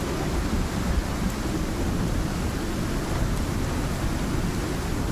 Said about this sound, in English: Lightning storms are vicious.